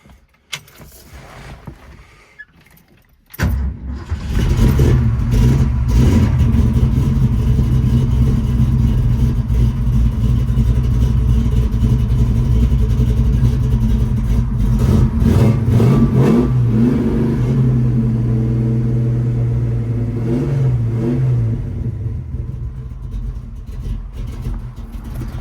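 A black 1967 Ford Mustang Fastback fires up after a brief crank and settles into a loud, deep V8 rumble, then revs repeatedly in steady surges, close and continuous with no talking.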